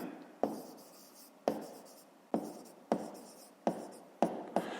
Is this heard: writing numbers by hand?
yes